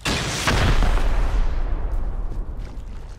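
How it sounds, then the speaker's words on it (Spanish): Several sharp gunshot bursts from the video game Rust ring out in quick succession, loud and booming, with echoing tails fading over a few seconds. "No escucha los disparos"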